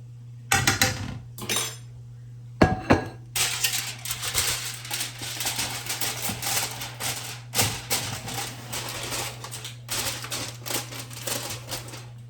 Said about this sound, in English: I'm going to go ahead and start fixing my plate